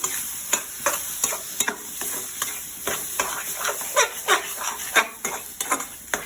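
Fish curry ingredients with raw turmeric fry in a pan for an Assamese recipe, a constant close sizzle broken by rhythmic scraping and clinking strokes of a stirring spoon.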